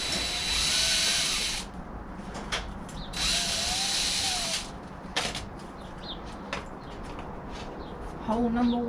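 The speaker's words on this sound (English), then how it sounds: "I'm just going to drill some holes in a bit of plastic" A power drill bores holes into a piece of plastic during Nissan Micra K10 rear numberplate work. It runs in two long, steady whining bursts, with someone talking between them.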